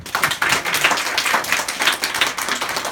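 Applause from a church congregation, dense continuous clapping from many hands that stays loud and steady throughout, with no voices standing out.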